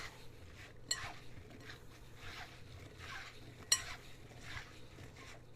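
Sliced apples being tossed with lemon juice by hand in a bowl for apple strudel filling: a soft, quiet wet rustle with two sharper clinks, close by and with no talking.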